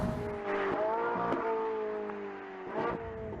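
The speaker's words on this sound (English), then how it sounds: "It's also tuned to produce a much sharper and better engine noise" A Ferrari 458 Italia engine revs hard while being driven, rising and falling pitch with sharp bursts and a shift around the middle, loud and close with no talking.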